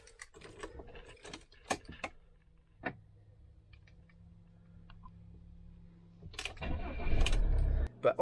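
An Autotrail Adventure 65 motorhome: keys jangle and click in the ignition with scattered handling noises, then after a lull the engine cranks and catches, rising into a loud, steady idle.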